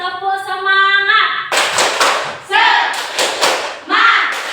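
A group of women doing a rhythmic Indonesian spirit clap at a teacher-training class: a sustained sung or called-out voice, then several loud bursts of hand clapping alternating with short pauses.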